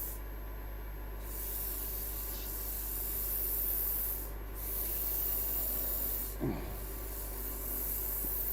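A woodturning piece is sanded on the lathe, giving a steady, continuous rubbing hiss over a constant motor hum, with a brief scrape near the end.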